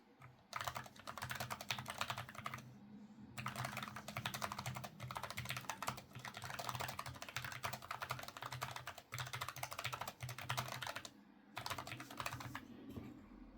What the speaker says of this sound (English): The first keyboard here is before lube.